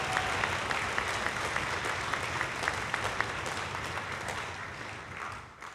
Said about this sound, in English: Can we give our parents and guardians and supporters a round of applause?